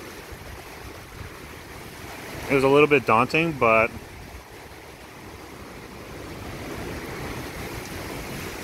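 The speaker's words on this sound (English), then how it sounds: "these just enormous waves" Big ocean waves surge and break at Richardson Beach in Hilo, Hawaii at night, a steady broadband roar of surf with wind noise throughout, while a person speaks briefly in the middle.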